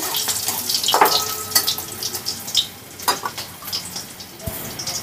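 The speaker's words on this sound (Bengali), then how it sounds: "এবার একটু মশলাটাকে এই ফোড়নটাকে একটু ভেজে নিচ্ছি।" Cumin seeds and dried red chillies sizzle in hot oil in a pan for a Bengali mushroom curry, with soft crackling, scattered pops and occasional clinks of a utensil, and no voices.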